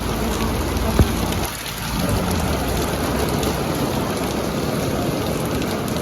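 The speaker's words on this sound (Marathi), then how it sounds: "खाली इलेलो आणि दणदणीत पाऊस इलो" Heavy rain pours steadily, a dense hiss of drops drumming on surfaces throughout, with a single brief knock early on.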